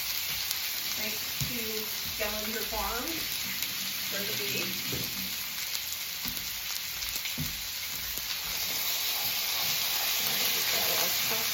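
Home-raised ground beef fries and browns in a pan with a steady, close hiss and sizzle throughout, while a person speaks briefly over it near the start.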